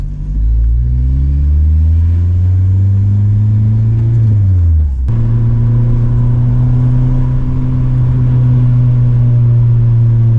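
Acura TSX engine fitted with an RRC Type R intake manifold and ZDX throttle body, idling loud and close with a steady low hum; the pitch sags and dips around midway, then settles into an even idle.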